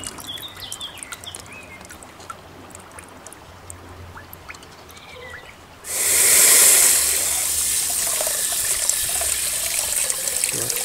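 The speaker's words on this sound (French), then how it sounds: "il suffit de rincer des graines abondamment" Tomato seeds rinsed under a running tap, quiet outdoor ambience with faint birds, then the water abruptly turns on into a loud, steady hissing stream splashing in a sink for the rest of the clip.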